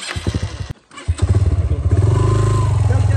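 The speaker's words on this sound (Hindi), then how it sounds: "अब नीचे से मोटरसाइकिल लेके जाओ भाई" A motorcycle engine sputters and thumps through a short stall, then catches and settles into a loud, steady rhythmic putter close by, with a voice briefly over the start.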